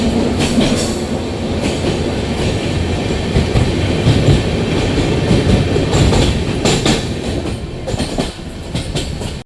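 A passenger train runs on rails on the route toward Araku near Visakhapatnam, with loud continuous rumbling and rhythmic clickety-clack of wagon wheels throughout, heard up close from inside the carriage.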